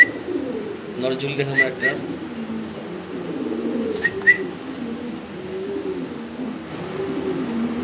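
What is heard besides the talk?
Spanish fancy pigeons cooing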